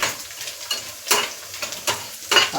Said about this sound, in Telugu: మంచిగా దోరగా వేసి వేగిపోయాయి